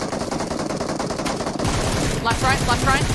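Rapid automatic gunfire rattles through a mecha-mode shooter match, with a steady barrage at first and sharper bursts later, while a voice talks over the shooting.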